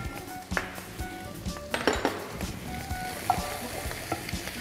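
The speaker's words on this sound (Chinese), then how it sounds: "然后一起翻炒到发出香味。" Mushrooms and chicken strips are stir-fried in a wok with a continuous light sizzle, broken by repeated metallic clanks and scrapes of a spatula tossing the food.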